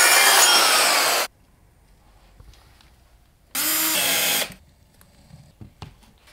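A dry screed floor board is cut to size in two short, loud bursts of rough sawing, with a quiet pause between them and small handling knocks afterward.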